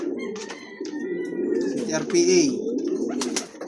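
Imported Taiwan pigeons coo close by in a loft, soft throaty calls repeating over a few seconds while someone talks over them.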